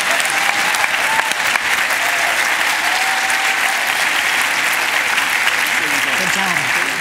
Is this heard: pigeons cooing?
no